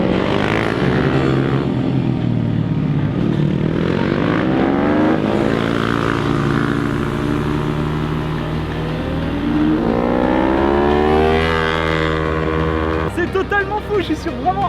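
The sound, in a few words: Moto3-type racing motorcycles passing on a kart circuit in Spain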